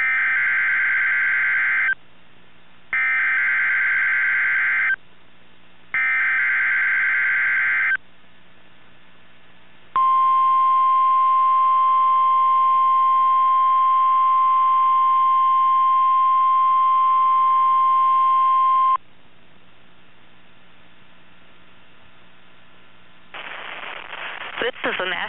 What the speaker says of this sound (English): The preceding audio signals and alarm tones were a test of the NOAA All Hazards Radio Public Warning Alarm System.